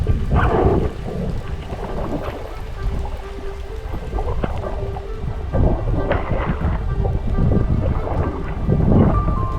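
Pouring rain on Lake of the Woods, a steady loud hiss of rainfall with deep rolling thunder rumbling through it, swelling and easing in waves and never letting up.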